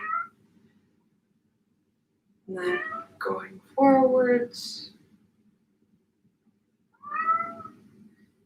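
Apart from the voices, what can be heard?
pet cat meowing outside a closed door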